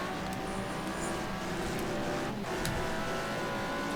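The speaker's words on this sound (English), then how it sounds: "I can hear a car behind me." A Corvette race car approaching from behind at Spa-Francorchamps gives a continuous engine drone blended with the steady in-car roar of racing, loud and unbroken throughout, with brief tire and wind noise.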